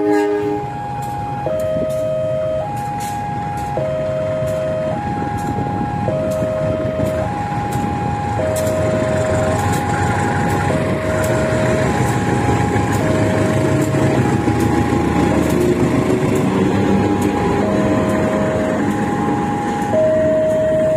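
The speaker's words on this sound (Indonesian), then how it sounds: "Langsiran lokomotif kereta api Jenggala" Railway yard bustle as a locomotive of the Jenggala train shunts slowly, steady rumble throughout and a repeating two-tone warning signal sounding in a regular alternating pattern.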